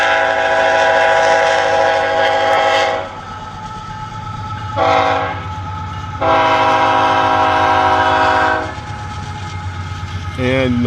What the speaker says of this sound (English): Oh man, there's a train. I'm sure you guys can hear the train.